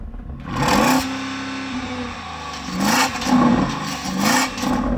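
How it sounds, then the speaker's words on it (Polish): A Porsche Cayenne Turbo GT V8 revs hard several times, with loud rising engine roars that climb and cut off at a soft limiter between lower idling rumbles, close by. "posłuchajmy Porsche Cayenne Turbo GT."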